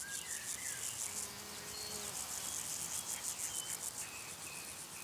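Dense, continuous chirping and buzzing of insects in a marshy meadow, with faint bird whistles drifting through the steady outdoor hum.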